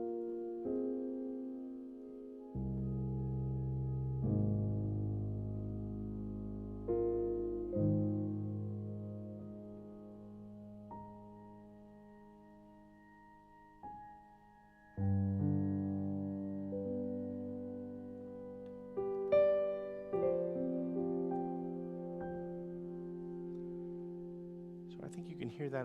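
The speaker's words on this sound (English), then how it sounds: "So it's like a pad, but we're using elements of the piano sound to create this element." Casio PX-5S stage piano playing a sustained pad built from piano sound elements, with slow, reverberant chords that swell and shift through several changes, held tones ringing under occasional brighter accents.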